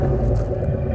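A 2006 Chevy Impala SS with Jones full bore mufflers idles and revs lightly under a little throttle, giving a steady, loud, close low rumble with no talking over it.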